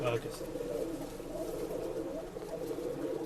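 Pigeons of a Rekdhar breed coo softly and repeatedly at close range at a Bangalore bird sale, with a voice talking over them.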